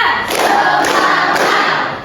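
Three loud, evenly spaced group claps ring out as a class performs a three-beat clapping pattern in a classroom, with no talking over them.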